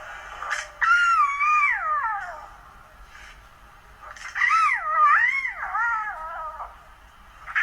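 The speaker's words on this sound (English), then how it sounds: "cubs will try to join in even when they aren't old enough to roar yet" Lion cubs attempt to roar, producing two drawn-out, wavering, meow-like calls that rise and fall in pitch, close and fairly loud, separated by a short pause.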